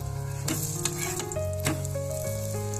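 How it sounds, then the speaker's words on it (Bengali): A paratha made with onion and semolina fries in oil in a wok with a soft, steady sizzle, broken by a few sharp crackling bursts as it is moved or stirred, heard close and alone. "যেহেতু পেঁয়াজ দেওয়া, যার জন্য একটু বেশি তেলেই ভাজতে হবে পরোটাটা"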